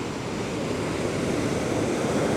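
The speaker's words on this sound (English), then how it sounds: "actual waves will test your patience because it'll pull on your line" Ocean surf rolling onto a beach during surf fishing, a continuous loud roar of breaking waves mixed with wind buffeting the microphone, with no voices.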